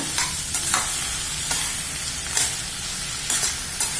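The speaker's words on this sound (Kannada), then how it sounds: "ಈಗ ಮಿಕ್ಸ್ ಮಾಡೋಣ" Brinjal palya being stirred in a pan with a little oil, a steady sizzle with periodic scraping strokes of the spoon every second or so, close and fairly loud, no talking.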